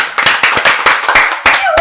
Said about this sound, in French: Et on applaudit tous Gérard.